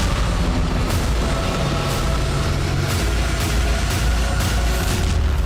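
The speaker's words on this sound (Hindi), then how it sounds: "लेकिन इस विमान में होने वाला धमाका देखिए" A small two-seat training aircraft converted into a drone explodes, heard as a loud continuous roar of blast rumble with repeated heavy booms at roughly one-second intervals.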